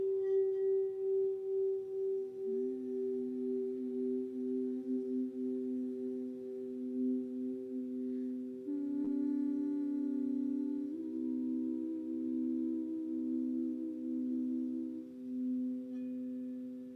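Singing bowls ring in a quiet room, giving steady, sustained pure tones that overlap and swell softly. A few fresh strikes layer new tones over the long hum.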